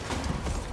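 Horses pull in the video game Total War: Pharaoh, a brief burst of mechanical rumbling with clopping, creaking and gear-like ratcheting, dense and fairly loud for under a second.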